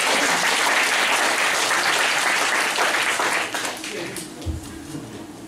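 Audience applause fills a hall after a speaker at a talk event, loud broadband clapping that holds steady, then thins and fades over the last couple of seconds.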